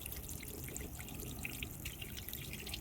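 Hot water from a tea kettle trickles over a Toyota Camry battery terminal, a faint, steady pouring dribble with soft splashes throughout.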